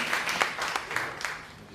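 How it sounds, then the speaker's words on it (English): A conference audience at a social enterprise summit gives a brief round of applause, a few uneven bursts of clapping mixed with murmuring voices, moderately distant and fading toward the end. "Yes, a round of applause."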